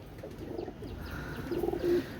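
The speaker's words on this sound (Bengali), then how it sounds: "সুন্দর একজোড়া রানিং কবুতার দেখেন" Soft, low cooing from a pair of pigeons, a couple of gentle rolling coos with the last one louder, over a quiet outdoor background.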